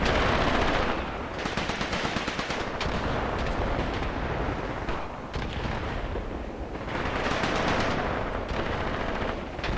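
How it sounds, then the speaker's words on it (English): Dense battle noise from the video game Graviteam Tactics, with rapid machine-gun fire, sharp gunshots and booming hand-grenade blasts packed together, loud and continuous throughout. "And now the hand grenades are flying."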